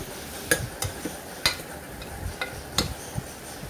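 Cut potatoes stirred into a pan of chilli-spiced onions for peas potato kurma, a quiet sizzle punctuated by several distinct spoon-against-pan clicks at uneven intervals.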